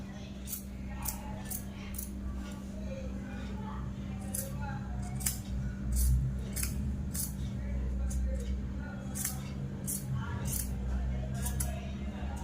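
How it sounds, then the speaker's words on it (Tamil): Scissors cut blouse fabric along a pinned pattern with a series of crisp, close snips in irregular clusters, while a person talks over them. "இப்போ இதை நம்ம அப்படியே கட் பண்ணி எடுத்துக்கலாம்"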